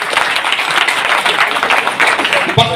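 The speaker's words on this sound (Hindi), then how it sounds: "वेरी गुड, ताली बजा लेनी चाहिए।" Seminar audience in a hall breaks into brisk, steady applause, many hands clapping together loudly for nearly three seconds before it tapers off.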